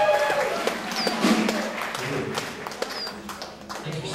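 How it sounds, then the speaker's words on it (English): Audience applause at a live music gig, scattered clapping and crowd noise near and far, with some whoops and a voice over it. "so give yourselves a round of applause"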